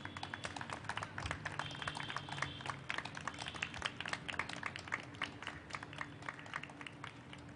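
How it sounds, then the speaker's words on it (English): An audience at a poetry book launch gives sustained, dense applause, a steady patter of many hands clapping at moderate distance, with no voices. "So let's stand up and give you a big clap."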